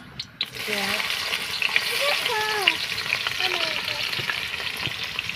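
Whole cardamom and cinnamon sizzle steadily in hot oil in a kadai, a dense close frying crackle running throughout, while a voice murmurs faintly in the background.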